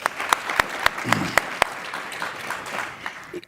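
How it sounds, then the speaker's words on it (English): Sparse clapping from an audience at a business summit, a handful of sharp, evenly spaced claps that start loud and thin out toward the end. "suddenly the claps are coming through fast and thick"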